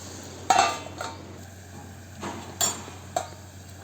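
Onions are stirred in a cooking pot and a lid is set on, giving a few sharp metallic clinks and scrapes over a faint background hum, with no voices.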